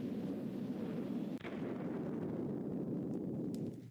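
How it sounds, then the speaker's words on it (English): A rocket launches in The Darkside Detective video game, a steady, deep roaring rumble with a sharp crack near the middle, holding loud and continuous before tapering off at the end. "And there goes the rocket."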